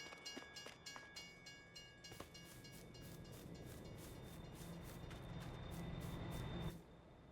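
A train in the Farming Simulator 22 game rolls along with a steady rumbling, grinding rail noise, opened by a few sharp clanks and ending abruptly.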